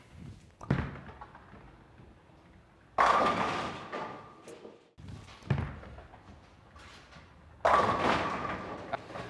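A Storm Crux Prime bowling ball is rolled down a lane on a modified house oil pattern, giving several separate hollow thuds and rolling rumbles, with two louder crashing impacts that sound like pins being struck.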